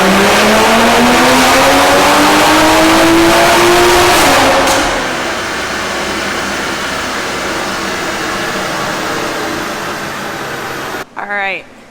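A Toyota Supra on E50 fuel, a blend of E85 and 93 octane, screams through a full-throttle pull, engine pitch climbing loud and close for four seconds before lifting off into a lower, fading drone.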